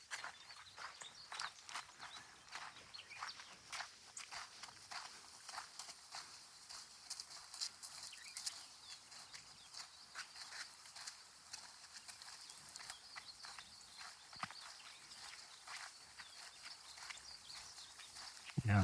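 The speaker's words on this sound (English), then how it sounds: "it's pretty common for people to be riding their horses around" Horses walking along a trail in Mineral Wells State Park, hooves clip-clopping in a steady, faint rhythm against a hissy outdoor background with no talking.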